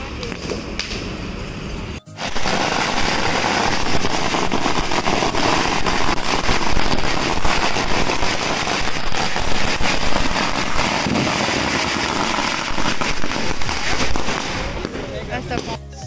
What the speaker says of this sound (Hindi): हम लोग लोखंडवाला में हैं जहाँ ये सब पटाखे वटाखे सब जलाए जा रहे हैं।